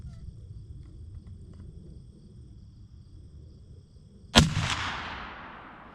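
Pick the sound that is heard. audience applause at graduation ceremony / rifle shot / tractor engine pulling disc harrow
rifle shot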